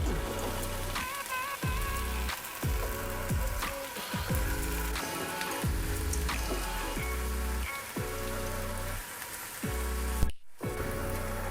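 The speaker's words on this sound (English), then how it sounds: "So you're gonna make a layer of zucchini in your pan, and we're gonna fry these all up." Zucchini slices frying in a layer in a pan send up a continuous crackling sizzle that swells and fades in a regular rhythm, close and moderately loud.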